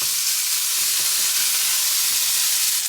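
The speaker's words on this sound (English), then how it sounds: "And now I'm going to add in the bacon. And we'll fry that until" Bacon frying in a pan gives a bright, continuous sizzle and crackle, close and steady throughout.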